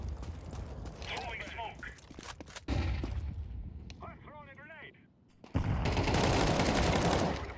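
Gunfire in the online shooter game Overwatch sounds in bursts of sharp, loud shots with rapid clusters near the start and dense firing at the end, while someone talks over parts of it.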